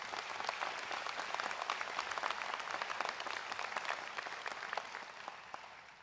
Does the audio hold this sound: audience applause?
yes